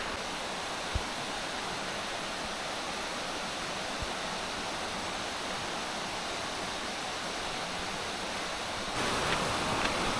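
A waterfall pours steadily with broad, unbroken rushing water noise, close and constant throughout, slightly louder near the end, with no voices.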